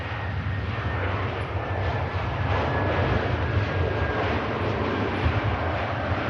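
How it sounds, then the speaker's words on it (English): An airliner lands at Manchester Airport with thrust reversers engaged, a loud, sustained jet roar with a deep rumbling low end, holding steady and swelling slightly, with no voices. "Thrust reverse is coming into play"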